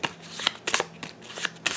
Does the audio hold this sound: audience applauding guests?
no